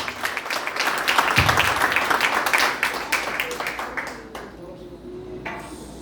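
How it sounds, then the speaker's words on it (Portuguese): A church congregation applauds during a worship service, a dense, steady wash of many hands clapping that gradually thins and fades toward the end, with voices mixed in underneath. "Dê uma salva de palmas para Jesus."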